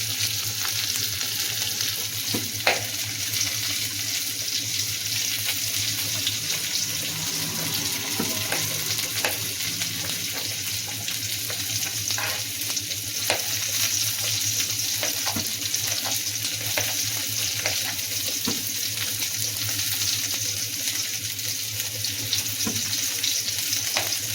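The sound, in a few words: onions and tomatoes sautéing in a pan for drumstick sambar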